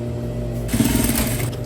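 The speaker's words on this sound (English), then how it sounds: "Tuck it under, and I'm gonna stitch right on the edge" A sewing machine stitches along the tucked-under edge of a denim skirt, starting with a low steady hum and then breaking into a fast, loud rattling whir at close range.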